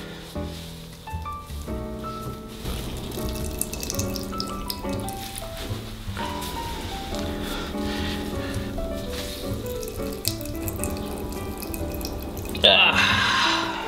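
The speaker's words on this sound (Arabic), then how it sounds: "والمفروض بقى ايه يعني نسكويز المية كلها من جوه الكرنبيت" Hot cooked cauliflower is squeezed by hand inside a towel, and water drips and trickles into a sink. The splashing is soft and irregular, with a louder burst of water near the end.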